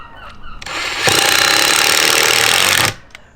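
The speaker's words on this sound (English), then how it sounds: "I'm just going to quickly screw it all back together and into place" A power driver whirs steadily for about two seconds while screwing a wooden garden bed back together outdoors, loud and close, with brief shorter bursts just before and after.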